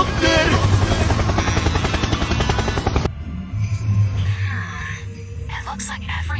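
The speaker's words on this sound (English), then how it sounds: "helicopter, helicopter." A helicopter in the video game Fortnite whirs with a dense, steady rotor chop under overlapping game audio, then cuts to a quieter low drone as a voice speaks over it.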